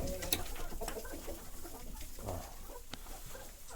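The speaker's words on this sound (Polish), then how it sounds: "kogut poleciał jako pierwszy. Jego wybranki za nim do przodu" A rooster and hens coming out of their coop cluck and murmur faintly at close range with occasional sharper calls and scuffling, a busy low flock sound with no talking.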